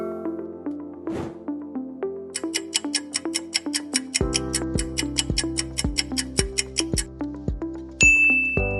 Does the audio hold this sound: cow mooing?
no